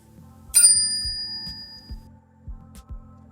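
A single bright bell ding rings out clearly for a notification bell icon, its clean metallic tone sustaining and decaying over about a second above faint background sounds, with no talk.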